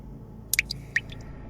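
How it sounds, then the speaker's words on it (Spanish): A few water drops falling onto stone slabs, two or three quick faint plinks over low background rumble. "Las gotas de agua que se filtraban por entre las grietas de los rotos arcos y caían sobre las losas con un rumor acompasado"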